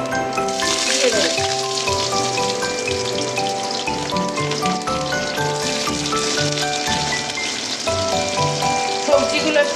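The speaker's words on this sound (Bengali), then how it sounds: "সবজিগুলো একটু ভেজে নেব।" Vegetables frying in hot oil with a bay leaf and five-spice seeds, giving a loud, steady crackling sizzle that runs unbroken throughout at close range.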